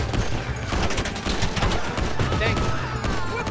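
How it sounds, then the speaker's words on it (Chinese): Rapid bursts of automatic gunfire from a Humvee-mounted gun in a zombie survival video game, loud and near, continuous throughout with a voice talking over it. "我这台悍马车不是给你这样乱射的"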